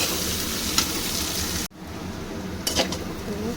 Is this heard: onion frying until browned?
yes